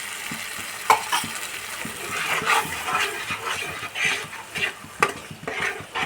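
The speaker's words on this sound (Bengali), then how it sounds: "কম আঁচে আমি এটাকে নাড়ছি" Sour yogurt is stirred into masala in a pan over low heat, a spoon scraping and clinking in an uneven rhythm over a soft sizzle.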